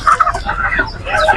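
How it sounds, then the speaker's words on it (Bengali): Desi chickens clucking in a Saudi Arabian poultry and livestock market, a dense, continuous stream of overlapping clucks and squawks close by with steady market bustle behind. "এই যে দেখেন দেশি মুরগি, এখানে আপনি দেশি মুরগিও পেয়ে যাবেন"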